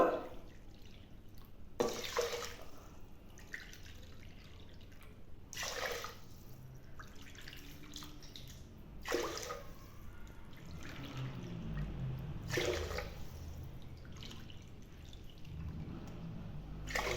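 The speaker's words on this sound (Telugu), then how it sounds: "ఐదు కప్పులు అయితే నీళ్లు పోసుకుంటున్నాను" Water poured from a vessel into a pot of washed rice and moong dal for sweet pongal, making a steady near splashing stream broken by a few sharper bursts of pouring.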